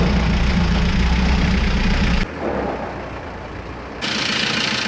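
A cheap left-hand-drive diesel mini truck engine runs loud and close with a steady rumble, then the note suddenly drops and quietens before it rises again near the end.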